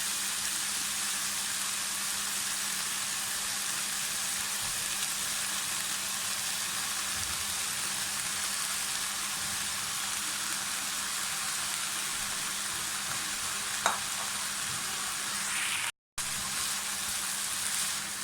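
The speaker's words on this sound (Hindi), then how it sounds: "ये बाकी कैबेज और ग्रीन पार्ट भी डाल दें, थोड़ा सा फ्राई करें और साथ में अपने राइस शामिल कर देंगे" Rice, cabbage and green onion tops stir-frying in a hot pan for restaurant-style chicken fried rice, a dense, continuous loud sizzle with one faint utensil clink and a momentary dropout near the end.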